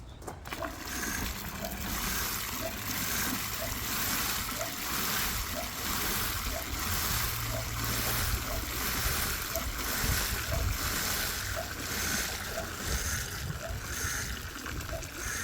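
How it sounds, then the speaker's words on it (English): Water sloshes and splashes steadily as buckets are rinsed out after restoring a cast iron skillet, a continuous wet wash of sound with a faint repeating tick and no talk. "Rinse out these buckets."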